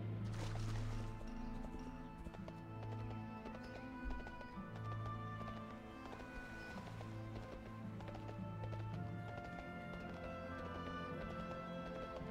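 Horse hooves gallop in a video game, a steady rhythmic clip-clop running continuously under a layer of game music.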